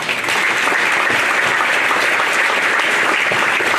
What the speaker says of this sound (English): could you please give a round of applause for the other inductees that are being honored tonight